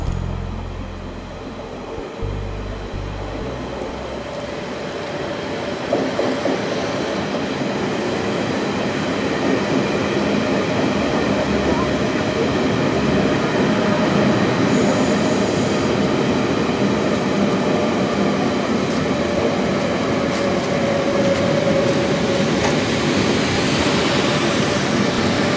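A train running on the new Vigerslev–Køge–Ringsted high-speed line in Denmark, a steady loud rumble with a rushing roar and faint wheel noise that builds slightly and holds throughout, without speech.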